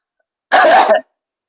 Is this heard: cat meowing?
no